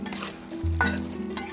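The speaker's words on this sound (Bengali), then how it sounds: "এবার ভালো করে একটু নেড়ে চেড়ে মিশিয়ে নিচ্ছি, কষিয়ে নিচ্ছি" Chicken with green chillies is stirred in a hot pan, giving a close, steady sizzle broken by brief scraping sweeps of the spoon.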